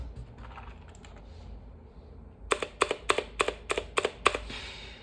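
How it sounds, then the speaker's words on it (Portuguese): Keys struck on a HyperX mechanical keyboard with a metallic, echoing ring, about eight sharp clicks in an even burst after a quieter stretch, with no voices. "Esse da HyperX parece que tá batendo no ferro, no metal, né?"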